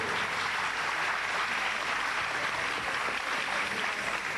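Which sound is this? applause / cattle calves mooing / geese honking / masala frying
applause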